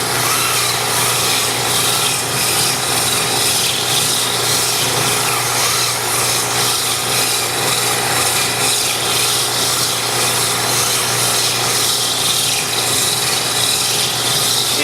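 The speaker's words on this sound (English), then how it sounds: "keep the sandpaper moving" Sandpaper worked against spinning Syncork on a lathe, a loud continuous abrasive rasping hiss that runs unbroken for the whole stretch with a steady motor hum beneath it.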